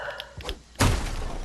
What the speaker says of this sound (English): There, break that door.